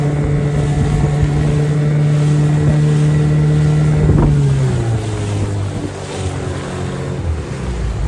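Sea waves wash and splash around a small motorboat out on open water, with a steady engine drone and wind buffeting the microphone; the engine pitch drops partway through while the water noise continues.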